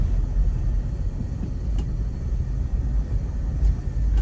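Cabin noise inside a 2001 Honda CR-V RD1 with a 2.0-litre non-VTEC injected engine and automatic transmission: a steady low engine drone mixed with road rumble, continuous and fairly loud, with no talking.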